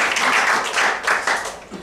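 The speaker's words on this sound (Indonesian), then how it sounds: "Tepuk tangan sekali lagi bagi Tuhan." A church congregation applauds together, a brisk, dense clapping that swells in short waves for a couple of seconds, with no voices over it.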